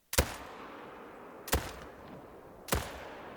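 Three sharp semi-automatic 30-06 rifle shots from Call of the Wild, sounding alone at an even pace, each a loud crack followed by a short decaying echo.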